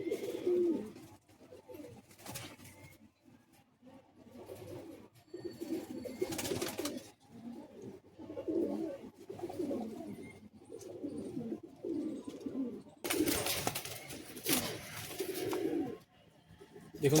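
Pigeons coo repeatedly inside a breeding loft in Bagnan, West Bengal, soft throaty calls coming in rhythmic bursts from several birds nearby, with short rustling pauses between and occasional louder flutters.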